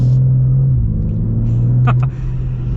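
A 2024 BMW M2 with the automatic transmission gives a steady, low engine drone heard from inside the cabin, holding an even pitch with no sharp revving.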